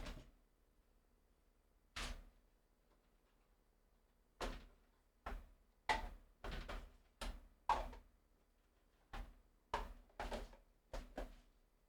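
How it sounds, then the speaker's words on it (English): Plastic storage drawers handled one after another, a series of sharp knocks and thunks spaced irregularly, sparse at first and then coming in quick clusters, close and fairly loud against a quiet room with no talk. "I'm going to grab a couple more drawers."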